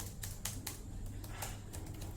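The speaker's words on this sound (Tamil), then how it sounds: "நெக்ஸ்ட் கீபோர்டோட டைப்பிங் பார்த்தோம்னா உங்களுக்கே தெரியும்" Light, quick keystrokes on the backlit keyboard of an Asus Vivobook 15 laptop, soft irregular taps in close succession, faint against a low steady background hum.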